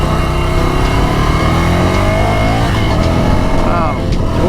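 Loud 2019 Ducati Scrambler Cafe Racer motorcycle engine revving continuously, climbing and falling in pitch as it accelerates, close and sustained throughout.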